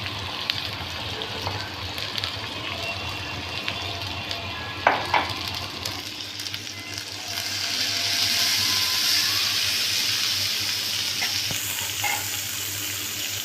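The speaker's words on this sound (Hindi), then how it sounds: "इस तरीके से हम मसाले को पूरी अच्छी तरह से भून लेंगे।" Masala spices roast in a pan for a spicy dal fry, producing a continuous close sizzle broken by scraping stirs, and the frying swells louder and brighter in the second half.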